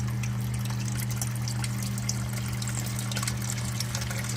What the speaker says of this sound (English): Pump just came on.